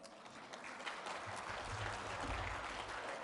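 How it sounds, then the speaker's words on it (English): Sustained applause from a business forum audience in a hotel hall welcoming a presenter, a continuous broad wash of many hands clapping at moderate distance. "please give her one more round of an applause"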